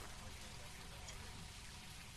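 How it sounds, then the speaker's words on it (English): Light rain falls in the ghost-hunting game Phasmophobia, a faint, even patter and hiss that stays steady throughout without any distinct drops standing out. "light rain looks pretty cool"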